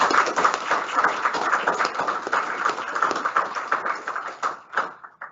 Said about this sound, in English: Round of applause, Arnav Pillai, please.